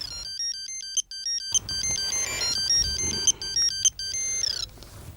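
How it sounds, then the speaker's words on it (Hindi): A phone ringtone plays, a bright electronic melody of repeated beeping tones ringing steadily for several seconds with no one speaking. "एक मिनट, फोन बज रहा है"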